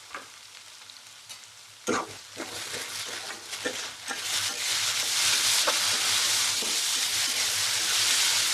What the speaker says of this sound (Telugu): ఆ చాప్డ్ ఆనియన్స్ వేసింది దీంట్లో. అండ్ దీన్ని బ్రౌన్గా అయ్యే వరకు అయితే మనం ఫ్రై చేసుకుందాం.